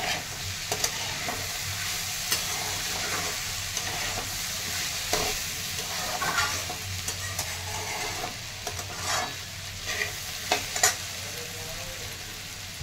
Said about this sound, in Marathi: कढीपत्ता, लसूण आणि अद्रक हे तेलामध्ये परतून घेतलेलं आहे.